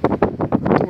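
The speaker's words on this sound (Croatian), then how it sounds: "I sada evo, opet malo bura dere." Bora wind gusts hard across an open plateau near a forest, buffeting the microphone in rapid, loud, pulsing bursts.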